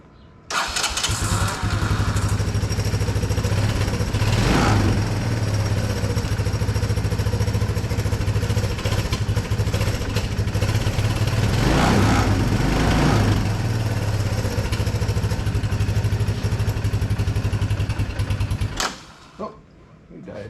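Classic Honda Big Red three-wheeler engine running after a restart after years of storage, a loud steady putter close by that swells twice, then cuts off near the end; someone talks over it.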